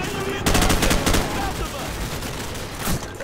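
Call of Duty 4 gunfire, a loud burst of rapid automatic shots followed by continuing scattered fire in a dense, noisy battle mix.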